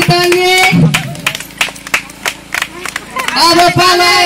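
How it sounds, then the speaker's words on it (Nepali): Audience clapping for prize winners at a village prize-giving, with bursts of hand claps mixed into crowd chatter and close, loud speech from a voice on a microphone that dominates the scene. "ताली ताली ताली"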